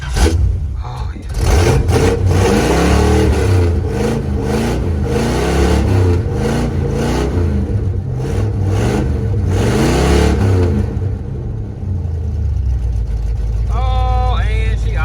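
Old Chevrolet S10 truck with a V8 engine running loud and close, revving in repeated surges over a rumbling idle, then settling into a steady idle toward the end.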